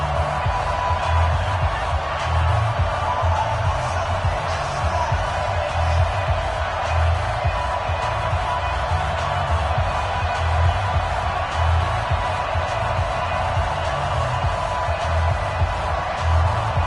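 Video game football stadium crowd before an NFL Week 17 matchup against the Cleveland Browns, a steady, dense roar of cheering and murmur that holds without pause, with low rhythmic thumping beneath.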